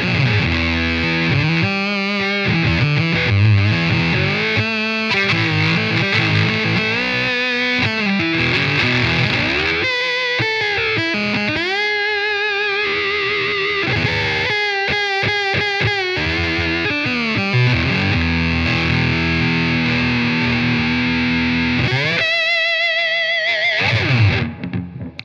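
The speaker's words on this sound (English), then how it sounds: "it was actually just a small box and the Park Fuzz Sound, Earthquaker devices version" Gibson SG electric guitar driven through an Earthquaker Devices Park Fuzz Sound pedal into a small amp, a loud, continuous fuzzy riff of chords and fast note runs with brief choppy gaps, no voices.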